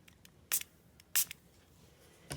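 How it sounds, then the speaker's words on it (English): Two short hissing bursts from a water spray bottle close by, used on watercolour paper, then a third starting at the end, separated by quiet pauses. "I'm going to set it in here and spray it so that I kind of contain the spray"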